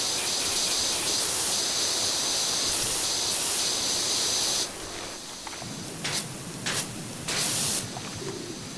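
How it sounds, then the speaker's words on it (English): Pressure washer spraying water, a loud steady hiss that roars close for several seconds, then drops back and continues more quietly with brief bursts and sputters. "my power washer, you can't just hit a button and rotate the nozzle"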